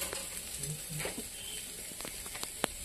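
Potatoes and pointed gourd frying in a wok, a soft continuous sizzle broken by occasional clicks and scrapes of stirring, close and moderately quiet, with no voices.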